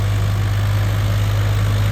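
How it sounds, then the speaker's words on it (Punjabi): Swaraj 855 4x4 tractor engine running at full RPM, around 2000 RPM in second medium gear, through a rain-soaked wet field; a steady, loud, continuous low drone with constant vibration, no voices. "ਦੂਜੇ ਮੀਡੀਅਮ ਗੇਅਰ ਦੇ ਵਿੱਚ ਚੱਲਦਾ ਬਾਈ ਉਹ ਵੀ ਆਪਣੇ ਫੁੱਲ ਆਰਪੀਐਮ ਤੇ ਚੱਲਦਾ ਵਾ 2000 ਆਰਪੀਐਮ ਤੇ ਚੱਲਦਾ ਵਾ"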